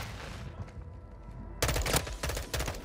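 An M16 rifle in a video game fires loud rapid bursts of sharp cracks after a quieter stretch of ambient background, with no talk.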